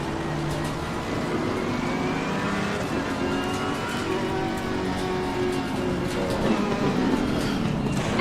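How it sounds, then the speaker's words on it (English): A GT3 race car engine drones loudly and steadily in a sim-racing game at Zandvoort, with another car's engine swelling close alongside as it passes. "Car on the right."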